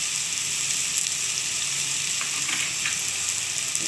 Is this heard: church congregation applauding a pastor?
no